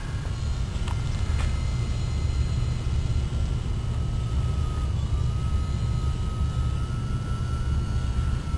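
The Miss II aircraft makes a flight pass, a steady droning engine with a faint whine drifting in pitch, continuous and fairly loud throughout with no speech.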